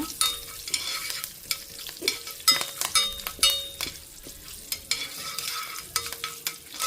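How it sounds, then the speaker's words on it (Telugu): Curry leaves and coarsely crushed garlic cloves fry in hot oil for a chutney tempering, giving a close, crackling sizzle with irregular sharp pops and light stirring scrapes in the pan. "పోపు మంచిగా వేగాలన్నమాట"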